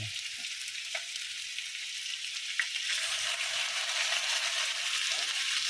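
Food sautéing in a hot pan gives a steady, loud sizzle and frying hiss, with a couple of faint clinks as it is stirred.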